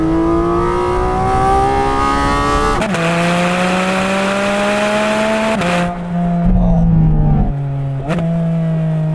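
A Porsche GT4 RS with a PDK gearbox revs hard, its engine note climbing in long sweeps broken by quick, crisp gear changes. The sound is loud and close, with no talk over it.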